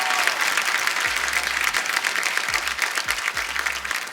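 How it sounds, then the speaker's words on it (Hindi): Studio audience on a Hindi comedy talk show applauds a guest, a dense, steady wash of clapping and cheering filling the room at even loudness for several seconds. "जोरदार तालियां पाजी के लिए"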